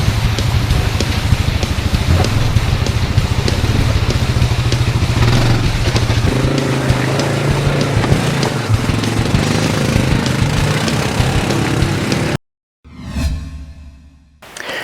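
A Yamaha Wolverine R-Spec side-by-side churns over rough off-road terrain with a loud, continuous engine roar and rushing wind, then a sudden cut to a brief quieter passage before the noise returns.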